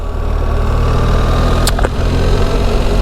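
A BMW R1300 GSA motorcycle engine rumbles steadily on the open road, loud and close with constant wind noise and a brief higher-pitched chirp partway through.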